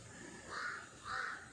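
A crow caws twice from a tree branch, two harsh, moderately loud calls about half a second apart over faint outdoor background.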